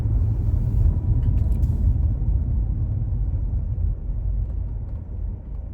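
Congested road traffic with idling and creeping car engines, a steady low rumble close by that fades slightly toward the end.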